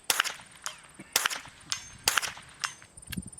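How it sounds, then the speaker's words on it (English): A .22 rifle plinks steel targets at an outdoor range: sharp cracks, each followed by a ringing metallic clang, about six shots spaced irregularly, close and loud. "I started out small here with the 22, just plinking the up-close pistol targets, then shooting the far ones"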